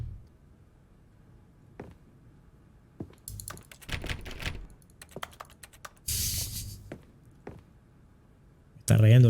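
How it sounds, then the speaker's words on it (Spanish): Keyboard typing from an office in the video game The Stanley Parable: Ultra Deluxe, with scattered close clicks, a brief hissing burst and a sudden loud thump near the end, while someone talks over it. "Porque sé que suena un teclado ahí"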